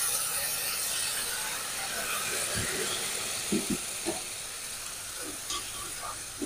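Water poured into a hot pan of semolina cooking with cardamom and vegetables, giving a steady sizzling hiss with a few sharper crackles and clinks near the end, fairly faint and without talk.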